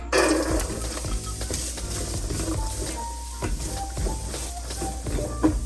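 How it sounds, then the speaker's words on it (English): Chopped carrots sauté in olive oil in a wok for fried quinoa, giving a steady close sizzle with scattered stirring clatter and scraping throughout. "I let my carrots saute for a few minutes"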